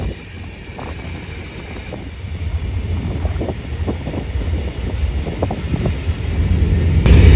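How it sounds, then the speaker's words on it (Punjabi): A very long train rolls past without stopping in Mauritania, continuously, with a steady rumble of wheels on track and rattling cars, plus some wind noise. No one speaks. "ਆ ਗਈ ਬਈ ਇੱਕ ਟ੍ਰੇਨ ਤਾਂ ਪਰ ਇਹ ਰੁਕਦੀ ਨਹੀਂ ਆ"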